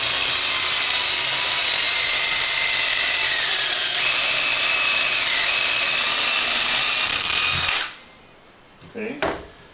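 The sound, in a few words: drilling a hole in a wooden cabinet door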